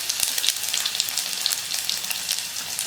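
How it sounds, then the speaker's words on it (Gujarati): Cumin with ginger, chili and garlic paste sizzles steadily in hot oil for a Gujarati red mogri shaak, a close, dense crackle that holds even throughout with no voices. "જીરું ઉમેર્યા પછી આપણે એમાં ઉમેરવાના છે આદુ અને મરચાં અને લસણની પેસ્ટ"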